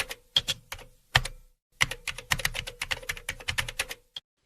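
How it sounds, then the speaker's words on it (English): A run of crisp keystrokes on a computer keyboard, a few separate taps then a quicker burst of typing, ending with one final isolated key press, close and alone. "Type console.log hello and hit Enter."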